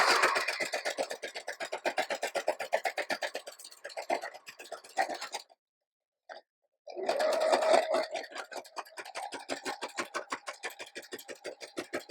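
A sewing machine stitches through a paper envelope for a junk journal, running in close, steady bursts of rapid needle clatter with a brief silent pause midway before it resumes.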